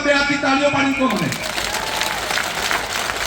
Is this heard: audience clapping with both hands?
yes